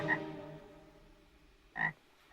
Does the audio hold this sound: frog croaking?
yes